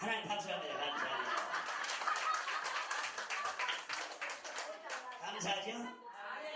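A church congregation claps together during a revival meeting in Gwangju, Korea, a dense, steady wash of applause mixed with chuckles and scattered voices that fades slightly toward the end.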